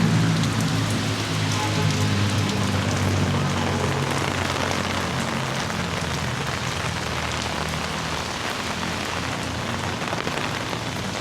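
Steady rain falling on a street in An Thuong, Da Nang, a dense continuous patter of drops on hard surfaces throughout, moderate rather than heavy, with no voices.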